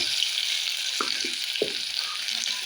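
Garlic and onion tossed into hot oil with cumin for a cabbage dish, giving a steady close sizzle with a few soft stirring scrapes and no voices.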